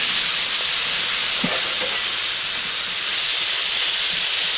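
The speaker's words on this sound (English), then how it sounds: "And listen to that sizzle going." Loud, steady hissing sizzle of squash and onion cooking in olive oil on a hot Blackstone griddle, close up with no talking.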